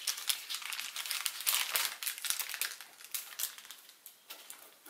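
Origami paper being folded for a scaled dragon precrease, a steady run of close, crisp crinkling and rustling with rapid small crackles throughout, no voice.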